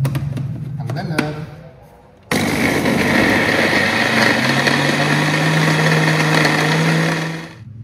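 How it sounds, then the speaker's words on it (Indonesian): A kitchen blender whirs through pempek ingredients of garlic with a little water: after a brief voice and a quiet pause, a loud, grinding motor roar starts abruptly, runs steadily for several seconds, then stops. "Akan blender."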